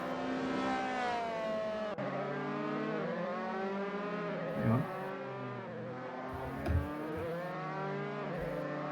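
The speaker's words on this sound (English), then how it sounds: "It's the first time ever we can actually hear the sounds of the cars themselves." Formula 3 race cars scream around Donington Park GP circuit, engines rising and falling in pitch as they accelerate and shift, a steady mid-distance roar with occasional thumps.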